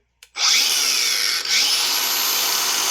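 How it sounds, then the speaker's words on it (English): A cordless grinder spins up sharply after a faint click and runs at a loud, steady high whine against an AR15 barrel part, dipping briefly midway before continuing. "I'm just going to take the cordless grinder."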